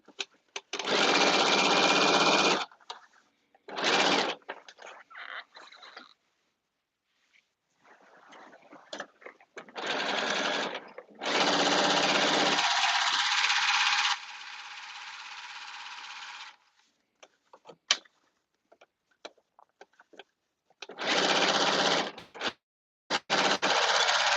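A sewing machine stitches a caftan seam in bursts of steady whirring, several separate runs of a few seconds each with pauses between, close and loud.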